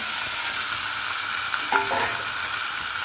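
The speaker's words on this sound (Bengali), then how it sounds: "দিয়ে দিই এবার মাংসটা" Chicken skin and meat fry in a pan with a little oil, giving a steady, close, hissing sizzle throughout with faint stirring scrapes.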